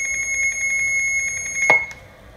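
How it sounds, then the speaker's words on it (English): A VHF radio station sends its distress alarm signal under test, a steady, repeating electronic tone with a pulsing rhythm that ends with a sharp click, moderately loud and alone. "Now we hear the station sends the signal."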